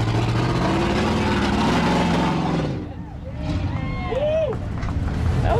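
An off-road rig in a rocky hole at Moab revs its engine and spins its tires to climb out, a loud sustained roar that dips briefly and builds again, with people talking over it.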